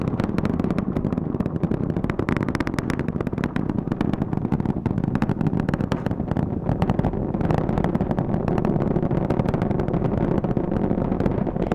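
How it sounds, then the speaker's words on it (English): The four core stage engines of the Artemis 1 rocket run at maximum thrust, a loud, continuous roar with low rumble and crackle that stays dense and unbroken throughout. "The 4 core stage engines are back at maximum thrust."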